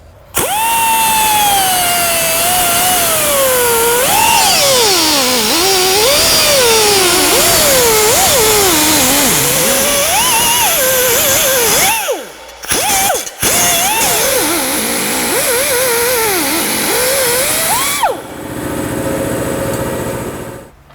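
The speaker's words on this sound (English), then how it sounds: "Cutting disc did do a pretty good job of cutting it" A cutting disc slicing through a new metal part, a loud, close, continuous high whine that rises and falls in pitch as it bites, then stops abruptly with brief spin-down bursts and a fading tail.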